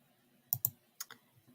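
A computer mouse clicks while working in an Excel spreadsheet: two quick close clicks followed by another pair a moment later, quiet and alone with no talking.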